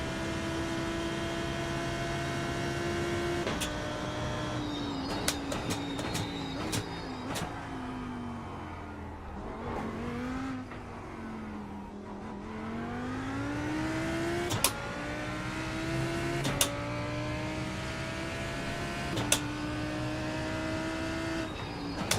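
A McLaren GT3 race car engine in a racing video game, loud and steady at high revs, rising and falling through repeated gear shifts with sharp clicks at each change, continuous for the whole stretch.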